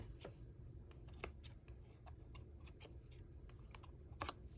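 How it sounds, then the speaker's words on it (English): Ribbon scissors trim loose ribbon ends during paper card assembly, giving several short, sharp snips and rustles spaced irregularly over a low background hum, close and clear with no talking. "I'm going to trim the ends with my ribbon scissors"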